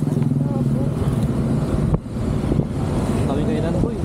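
A motorcycle cruising on an island road in Siargao, with steady engine drone and wind buffeting the microphone throughout, voices murmuring faintly beneath.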